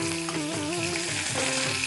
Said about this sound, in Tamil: இப்போ சோம்பு பொரிஞ்சிருச்சு, இஞ்சி பூண்டு விழுது சேர்த்துக்கிறேன்.